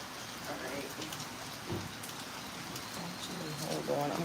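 Steady rain falls outdoors as a continuous hiss across the whole stretch, with faint bird coos and muffled voices in the background.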